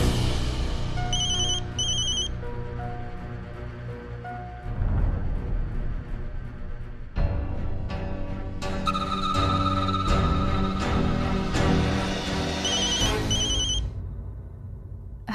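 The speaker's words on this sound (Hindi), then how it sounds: "किसका फोन है?" A telephone rings in a repeated electronic ringtone pattern over a bed of dramatic background music in a Hindi TV drama, no voices present.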